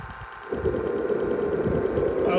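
A model jet turbine's fuel valve ticks rapidly with an empty tank and air bubbles in the fuel line, a steady mechanical clicking that starts half a second in alongside a low rattling hum.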